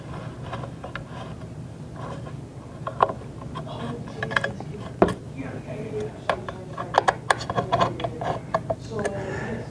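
A web guide roller is tightened with a 5mm Allen wrench, giving a run of small metallic clicks and ratcheting ticks that grow denser toward the end, close up over a steady low hum.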